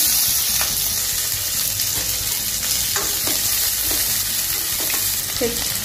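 Chopped onion and cumin frying in hot oil with mustard seeds while cooking broccoli masala, a loud, steady close sizzle with a few soft clinks and no talking.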